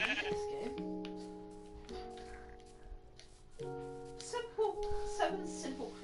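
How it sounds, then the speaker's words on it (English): Sheep bleat in the Minecraft video game, a few short bleats heard over sustained background music tones while people talk at a low level. "More sheep. And now I want some mutton and some white wool."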